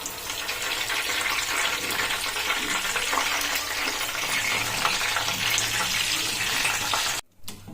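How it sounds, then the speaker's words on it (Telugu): Curry leaves frying in hot oil in a home kitchen, a loud, dense, crackling sizzle that runs steadily and close up, then cuts off abruptly near the end. "కరివేపాకు ఇట్లా మంచిగా ఫ్రై చేసుకోవాలండి"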